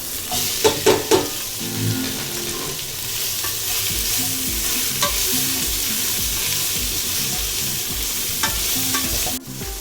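Long-cut green chillies and onions fry in a pan for Hoskote-style dum biryani, a loud continuous sizzle under rhythmic scraping strokes of a spatula, with a few sharp knocks early on and a clatter near the end.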